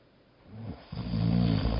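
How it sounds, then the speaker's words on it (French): Wolf snoring as a story sound effect, a single low, rumbling drawn-out snore that swells up and holds loud near the end. "le loup était couché sous l'arbre et ronflait à en faire trembler les branches"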